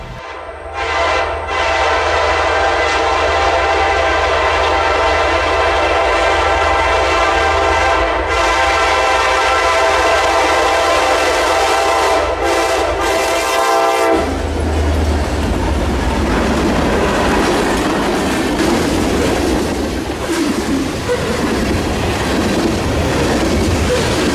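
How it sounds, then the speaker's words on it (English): A Kansas City Southern freight local led by three rebuilt Jeep locomotives sounds a loud, sustained horn for several seconds nearby. The horn then gives way to the heavy rumble and clatter of the train rolling past. "we find one of the KCS locals that serve the Vicksburg sub on its way to drop off its cargo in Gibsland"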